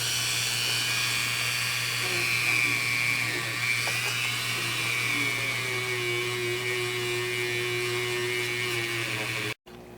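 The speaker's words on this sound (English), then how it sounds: "I'm going to get some fine polishing compound on a buffing wheel" A Dremel buffing wheel with fine polishing compound whines steadily at low speed against tarnished Gibson ES-335 guitar pickups, a continuous high-pitched rotary drone with slight pitch wavering, close and loud, cutting off abruptly near the end.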